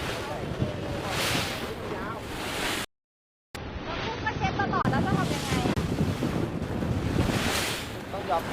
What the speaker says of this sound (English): Now it's very, very windy.